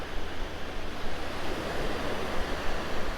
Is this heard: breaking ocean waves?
yes